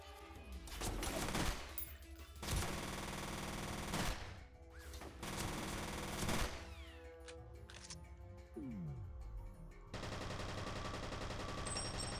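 Bursts of rapid SMG fire from the shooter game FEAR rattle loudly in several long volleys, mixed with in-game music and effects, with no talk.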